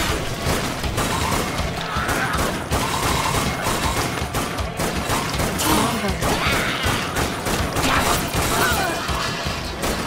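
Dense, continuous rifle gunfire and crashing impacts in the Dead Nation video game, loud and busy throughout with rapid overlapping bursts and mechanical clatter.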